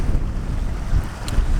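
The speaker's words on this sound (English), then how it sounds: "It's a little bit windy" Strong wind buffeting the microphone on an exposed hilltop, a steady low rumbling roar with gusty surges and no voices.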